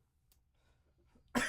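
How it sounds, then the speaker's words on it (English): A person coughs once, a single loud, harsh burst arriving abruptly at the end after near silence with faint breathing. "I shouldn't be coughing right now"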